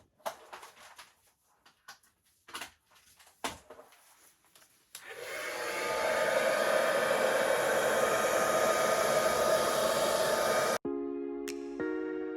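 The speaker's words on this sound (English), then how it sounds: "then I'm going to blow it out with my hairdryer" A hairdryer roars on after a few scattered knocks and rustles, blowing loud and steady across wet acrylic paint for several seconds before cutting off.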